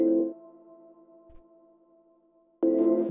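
A Rhodes electric piano chord stab sample from a minimal house track sounds once and holds a soft tone that fades, and a second bright stab hits near the end.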